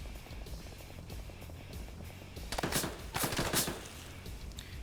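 Gunfire in a large 230-player PvP video game match, rapid automatic bursts crackling over a rumbling background, with sharper, louder volleys clustering in the second half.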